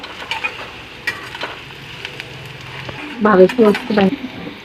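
Onion frying golden brown in a pan for besan pithla, a soft sizzle with stirring scrapes and a brief louder clatter of utensil against the pan near the end.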